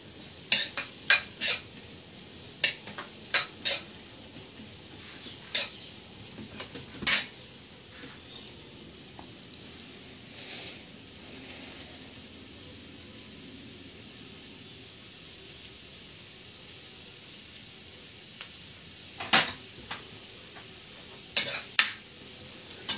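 Cabbage leaves frying in a home-kitchen pan, a steady soft sizzle running throughout, broken by scattered sharp clinks and scrapes of a utensil stirring against the pan, with no talking.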